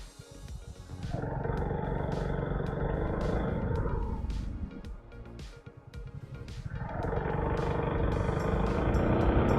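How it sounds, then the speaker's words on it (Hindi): A large vehicle approaches on the road, heard from a motorbike as a loud, low engine roar that swells twice and stays close, with no talk over it. "बहुत बड़ा गाड़ी आ रहा है सामने से"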